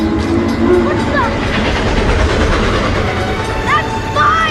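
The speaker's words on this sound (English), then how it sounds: "The train is coming!" A train approaches with a steady, loud rumble and a few faint squeals over several seconds while people call out nearby.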